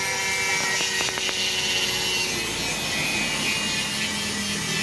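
A power tool cuts down a nut while a Brembo brake disc is fitted to a Smash 115 motorcycle: a loud, continuous whining grind with sharp tonal harmonics and a few brief catches, close and unbroken.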